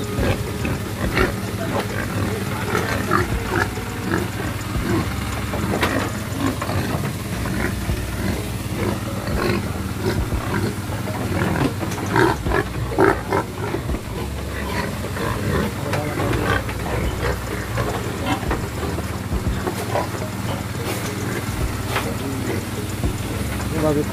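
Many pigs on a livestock truck in Merauke grunt and squeal in a dense, continuous chorus, loud and close, with people talking over it.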